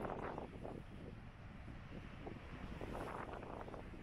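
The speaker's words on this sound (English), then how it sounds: "It's a bit windy up on the spout today." Gusty wind buffeting the microphone high up on an exposed spout at an abandoned WW2 site, a steady loud rumble that swells and eases without any clear pause.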